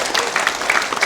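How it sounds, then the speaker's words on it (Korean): Church congregation at a Friday worship service clapping for elders aged seventy and over: brisk, dense applause from many hands, loud and continuous for a moment, with no talk over it. "우리 장로님들 우리 70대 이상 분들 박수 한번 치겠습니다"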